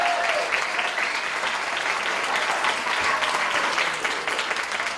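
A crowd at a Martin Luther King Day event claps steadily and loudly for several seconds, a dense wash of applause with no pauses.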